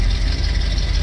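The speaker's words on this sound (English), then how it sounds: "Not much of an eventful cold start. Because she fires right up." A 1979 Chevrolet C10 pickup engine idles right after a cold start, a brief loud, close, low throbbing rumble with an even, steady pulse and no talking.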